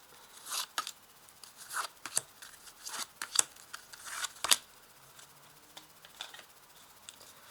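Tarot cards being laid out on a table: crisp, close slaps, flicks and shuffling rustles in irregular bursts, fairly quiet with sharp peaks and no talking.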